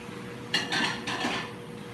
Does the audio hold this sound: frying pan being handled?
yes